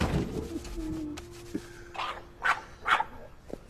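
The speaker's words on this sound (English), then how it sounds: "The dog stays in the box." A dog lets out several short barks and whimpers close by, spaced irregularly over a few seconds above a low steady hum.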